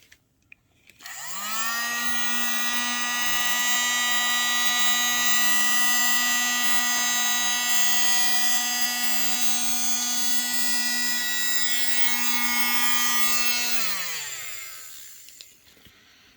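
A small USB mini desk vacuum switches on with a rising whine, then holds a loud, steady, high-pitched motor drone for about twelve seconds before winding down and stopping.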